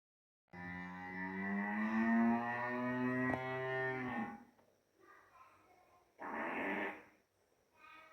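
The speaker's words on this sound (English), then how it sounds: "Hippo calls can be very loud" A wild hippopotamus gives a long, loud, deep bellowing call, followed by quieter grunting and a second short burst of rough, resonant vocalizing.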